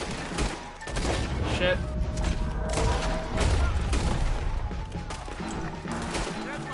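Rapid, overlapping bursts of gunfire and crashing impacts in a Red Dead Redemption II shootout around a wagon, loud and continuous with someone shouting briefly over it.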